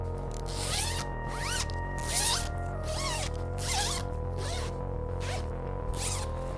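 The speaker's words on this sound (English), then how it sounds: "Anybody else love zipper sounds?" The zipper of a soft synthesizer case (Sonicware ELZ_1) pulled open and shut repeatedly, close and crisp, in quick rasping strokes over several seconds with no talking.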